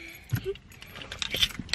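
Car keys jangling close up in a car, a short burst of bright metallic clinks and rattles.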